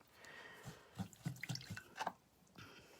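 A paintbrush is rinsed in a container of water, giving a few soft, close splashes and drips in a quick irregular run, with quiet room tone between.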